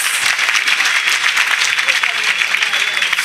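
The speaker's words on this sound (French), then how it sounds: "Let's clap for her." A church congregation at a salvation and healing weekend in Bingerville applauds a child with dense, continuous clapping mixed with loud voices and cheering throughout.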